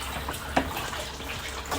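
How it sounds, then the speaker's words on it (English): Well water pumps steadily into a barrel for hauling, a continuous close rushing and splashing wash with no voices. "the water is pumping pretty good"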